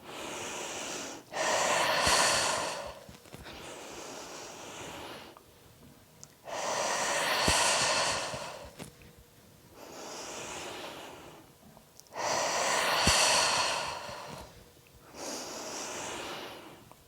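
Forceful breathing during exercise: three loud, rushing inhalations, each followed by a softer, longer exhale, in a slow, steady rhythm with quiet pauses between breaths, close to the microphone.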